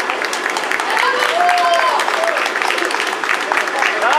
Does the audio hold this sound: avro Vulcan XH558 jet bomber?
no